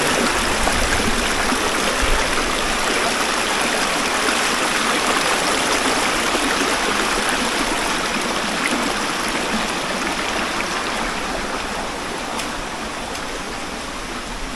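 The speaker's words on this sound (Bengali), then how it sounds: "আমরা এখন বাগবিয়ানি ঝর্ণায়, এটা আজকের দিনের শেষ ঝর্ণা আমাদের।" The Bagbiyani waterfall stream at Sitakunda, running after a night and morning of rain, gives a constant, dense rush of water. The roar stays close and loud throughout and eases slightly near the end, with no voices.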